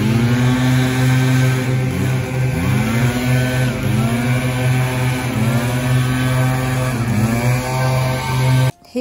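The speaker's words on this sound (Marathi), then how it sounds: "हे असतात पानांसाठी मशीन त्यांच्याकडं. पेट्रोल लागतो त्यांना" A petrol-powered leaf blower clearing fallen leaves from a road runs loud and steady, its engine drone rising and falling slightly in pitch throughout, with no talk, before cutting off abruptly at the very end.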